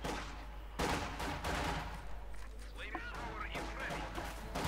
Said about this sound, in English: Further heavy mortar fire going in there.